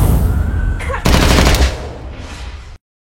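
Soldiers open fire in a film scene: a loud burst of rapid automatic gunfire with dense crackling shots for about two seconds, tailing off before abrupt silence.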